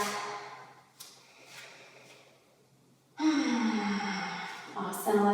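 Slow, deep yoga breaths: a soft drawn inhale followed by a louder, longer, breathy exhale close to the mic, with faint spoken cueing beneath.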